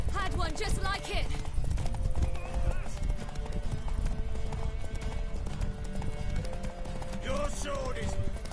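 Rhythmic hoofbeats of a horse galloping, with a horse whinnying, over continuous game music and effects in Witcher 3; voices speak at times.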